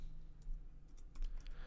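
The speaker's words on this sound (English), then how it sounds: "press on enter key on your keyboard" Fingers tap quickly on a computer keyboard, giving a short burst of light, close clicks in an irregular rhythm over a quiet room.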